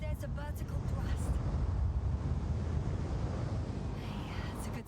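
Vertical thrust from spacecraft engines in The Invincible, a steady, loud broadband roar with a deep low rumble that holds evenly throughout, a faint voice briefly audible near the start.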